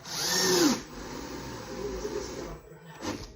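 A power drill, not an impact driver, whirs loudly in a short burst driving a screw into wood, then keeps running at a lower, uneven pitch, with a brief rev near the end.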